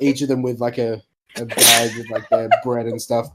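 A single sharp sneeze bursts out in a short pause between stretches of casual talk at a tabletop game session, loud and close, with speech resuming right after.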